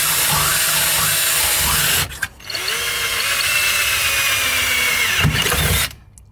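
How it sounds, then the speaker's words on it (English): A power drill whines loudly and steadily while boring holes into the double-layered body of a Mustang during a hydro e-brake install, briefly stopping and restarting midway before cutting off near the end. "Go ahead and drill some holes."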